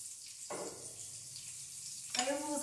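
Butter and a little olive oil sizzle in a pan, a steady close hiss that swells when something is added, with brief bursts of talk over it.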